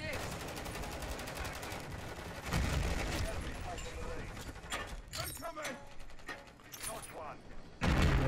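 Bursts of automatic gunfire from a Modern Warfare 3 multiplayer match, rapid rattling shots layered with mechanical clatter and dense game noise, loud and continuous with brief lulls.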